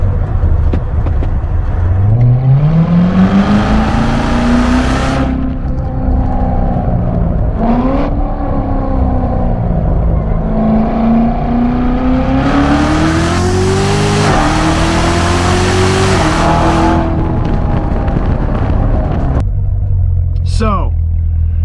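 A Chevrolet Corvette engine revs hard while accelerating, its loud, close roar climbing in pitch through several successive pulls before easing off near the end.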